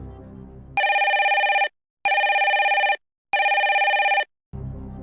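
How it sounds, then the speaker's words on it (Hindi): Three evenly spaced, loud electronic telephone rings, each about a second long with short silences between, as a call is placed on the KBC game show set; low background sound frames the rings. "फोन लगाया जाए कंप्यूटर जी"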